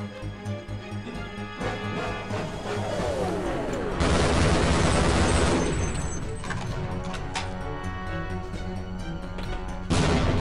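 Half-Life gameplay with bursts of gunfire and loud grenade explosions, dense overlapping shots and blasts throughout, peaking in a heavy explosive roar midway, with music or game ambience beneath.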